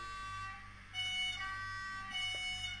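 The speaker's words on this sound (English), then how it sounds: "There's several horns actually." Digital sound horns from a Minitrix N-scale SBB/CFF/FFS freight train starter set, heard as steady, buzzy electronic horn tones that shift pitch twice, fairly quiet over faint background hum.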